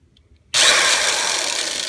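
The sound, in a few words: electric drill drilling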